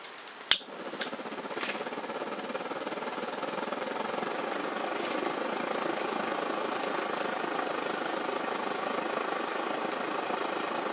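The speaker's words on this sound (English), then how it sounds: "that jet there makes a lot of noise" A sharp click is followed by a steady, breathy roar of a vintage single-burner camp stove's burner jet that holds constant and fairly loud until the end.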